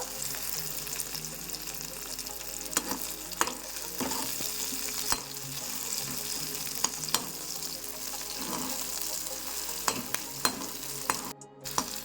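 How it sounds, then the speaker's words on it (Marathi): Green peas frying with onion and tomato in a pan for masala Maggi, a steady close sizzle with repeated scraping stirs and spoon knocks against the pan throughout. "वाटाणे टाकून याला चांगलं असं फ्राय करून घ्यायचं आहे।"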